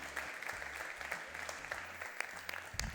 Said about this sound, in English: you can give him a welcoming applause